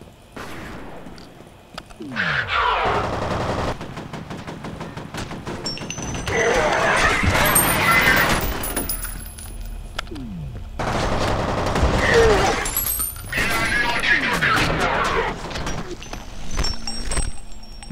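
Bursts of automatic gunfire from the first-person shooter F.E.A.R., loud and sustained in several long volleys separated by short lulls, with heavy impacts and crashing debris.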